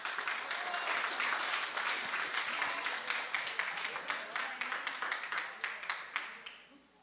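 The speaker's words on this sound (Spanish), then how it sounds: "la doctora Ena Carnero Arroyo, para quien pido un fuerte aplauso" Audience applause for a speaker at a university alumni gathering, dense clapping that holds steady, then thins into scattered individual claps before fading out near the end.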